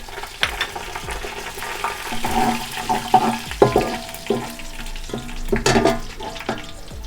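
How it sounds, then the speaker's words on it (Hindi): White cumin seeds hit hot oil with browning onions, giving a close sizzle and crackle with several sharp bursts of frying as the pan is stirred. "इसमें सफ़ेद जीरा डालेंगे"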